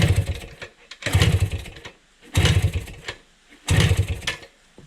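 A 1971 Kawasaki F7 motorcycle is kicked over repeatedly; three or four bursts of sputtering engine noise each catch briefly and die, separated by quiet gaps, close by.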